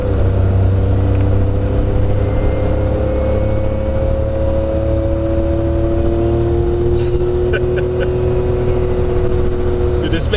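A big-turbo Suzuki Cappuccino accelerates, heard from inside the car as a loud, steady engine drone whose pitch climbs slowly, with faint higher whines and ticks late on.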